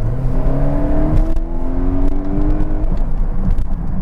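A 2018 Volvo V90 CrossCountry with the 2.0 T6 engine in dynamic drive mode, its revs climbing gently with a steady, close engine hum and rising whir.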